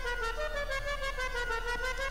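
A looping car horn on an Emperor ETR1 in GTA V Online honks as a steady, continuous tone, rhythmically pulsing without a break, fairly quiet and with no talking over it.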